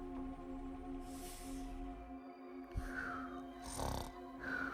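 A man's slow, raspy snoring breaths sound faintly over a steady low hum, with a snort or two among them.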